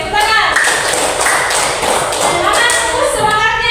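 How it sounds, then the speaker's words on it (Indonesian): Students clap their hands during a physical education lesson on volleyball, a loud, close burst of clapping and taps mixed with voices talking over it. "Oke, tepuk tangan."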